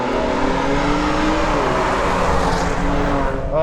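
A Ford Raptor pickup launches hard from a standstill, its engine roaring loud and close as the pitch climbs steadily under full throttle for several seconds.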